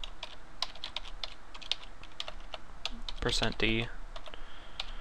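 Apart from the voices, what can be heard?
typing code on a computer keyboard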